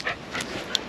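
A reactive dog pants in quick, quiet breaths, a few soft huffs close by with nothing else over them.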